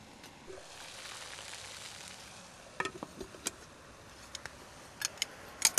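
Food sizzles softly over hot coals in a Firebox stove, a steady faint crackle broken by scattered sharp ticks and pops that grow louder toward the end, with no voices.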